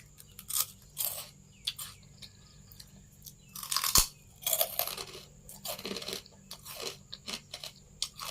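Crispy fried pork rinds are bitten and chewed close up, giving sharp loud crunches in irregular bursts with quieter chewing between, without any talking.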